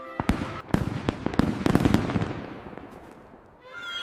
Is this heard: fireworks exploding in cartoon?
yes